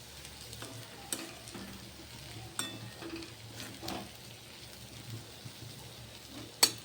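Fenugreek leaf bhaji stirred and cooking in a pan, with a quiet sizzle underneath and a few soft spoon scrapes and clinks against the pan at irregular intervals, close by.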